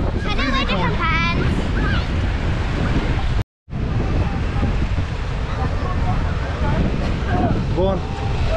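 Waves washing in at Prestatyn beach in North Wales, a loud, continuous surf roar mixed with gusting wind buffeting the microphone, broken by a short dropout, with people talking and calling nearby.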